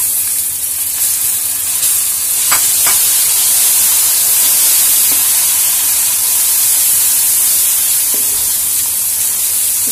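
Garlic ginger paste frying in hot oil with browned onions, a loud, steady sizzle and hiss that carries on unbroken throughout, with a few faint clinks of a utensil.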